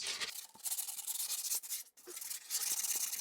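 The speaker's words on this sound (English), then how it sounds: "make a little piece of sandpaper. And you sand down the edges." Edges of skateboard grip tape being sanded with a folded scrap of grip tape, a close, rough scraping rub in repeated strokes with one brief pause.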